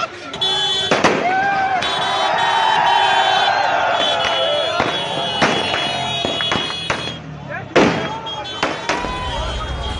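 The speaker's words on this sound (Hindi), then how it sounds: "ये जो बीच सड़क पर पटाखों की आवाज का शोर आप सुन रहे हैं" Firecrackers burst repeatedly in a street during a celebration in Jammu and Kashmir, sharp loud cracks and pops over a constant roar of crowd noise and cheering.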